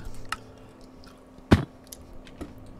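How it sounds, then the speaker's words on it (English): Someone eats soft, moist fries close to the microphone. A few wet bites and squishy chews land as separate sharp bursts over quiet room noise, the loudest in the middle. "I got some fries here too."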